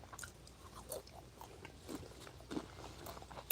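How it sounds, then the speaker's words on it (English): A person chews food loudly at close range, making a series of irregular, wet, crunchy bites. The sound is fairly quiet overall and plays alone. "Could you chew a little louder?"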